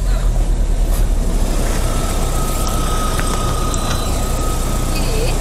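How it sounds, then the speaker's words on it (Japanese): A manual Subaru WRX engine runs at a steady, even idle, a continuous low rumble close by with no pauses, and faint background sounds over it. "エンジンかけて。"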